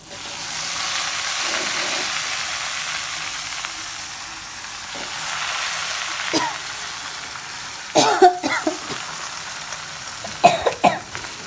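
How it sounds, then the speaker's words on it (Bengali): Frying sizzle of onion, garlic, green chili and dried chili tempering for ash gourd greens, a soft steady hiss in a home kitchen, later broken by several coughs and throat clearing. "এই যে এখন কাঁচা বাগার দিতেছি, এটা বলে কাঁচা বাগার দেওয়া"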